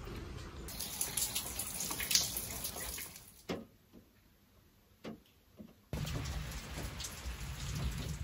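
Steady rain patters and hisses on a narrowboat, dropping away briefly before the downpour returns at full strength.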